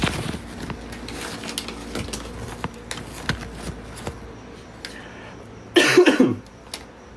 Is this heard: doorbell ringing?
no